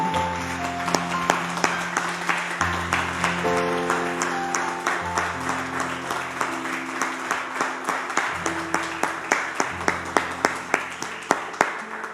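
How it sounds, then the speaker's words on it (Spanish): Church congregation clapping in a steady rhythmic beat over sustained keyboard chords, the sharp claps evenly spaced and growing slightly stronger toward the end. "Un aplauso al Señor"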